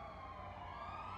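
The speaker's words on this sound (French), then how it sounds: "J'en ai marre d'entendre des sirènes aussi." Police sirens wail steadily in a GTA roleplay city, a continuous wavering tone that sounds fairly distant and soft under a hazy background hum.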